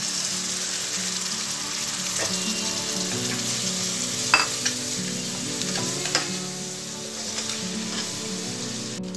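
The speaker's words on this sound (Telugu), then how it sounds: "ఉల్లిపాయ ముక్కలు బాగా మగ్గిన తర్వాత మనం ముందుగా కలుపుకున్న పెరుగు మిశ్రమం వేసుకోవాలి." Onions frying down with a yogurt mixture for egg dum biryani give a steady, fairly loud sizzle, with a few sharper scrapes of stirring throughout and no talk.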